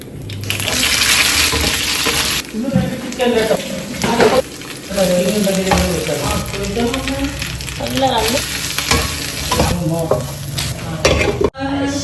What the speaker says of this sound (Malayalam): അപ്പൊ വേഗം മത്തി ഫ്രൈ ഉണ്ടാക്കാം